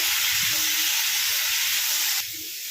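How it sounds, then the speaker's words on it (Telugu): Bottle gourd peel frying in a pan gives a loud, steady sizzle and hiss that drops off slightly near the end, with no talk over it. "ఇప్పుడు మనం ఈ సొరకాయ తొక్కను వేసుకుందామండి. ఇందులో ఈ తొక్క అనేది బాగా ఫ్రై కావాలండి."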